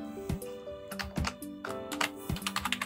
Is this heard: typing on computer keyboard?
yes